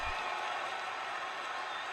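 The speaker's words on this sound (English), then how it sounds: "Oh, they're getting a crowd. Getting the crowd really amped up." A crowd cheering and applauding in a wrestling video game, a dense steady wash of noise at moderate level with no clear breaks, heard without talk.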